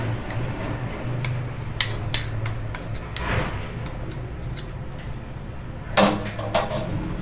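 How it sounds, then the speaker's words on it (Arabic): Sugar, eggs and lemon zest for a lemon cake being mixed in a bowl, with sharp utensil clinks against the dish in irregular bursts, clustered near the start and again toward the end, over a low steady background hum. "غادي نخلطهم مع بعضياتهم"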